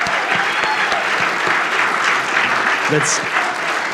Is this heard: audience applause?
yes